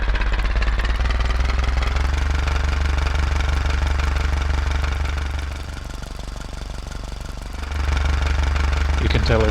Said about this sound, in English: You can tell it has a pretty realistic diesel sound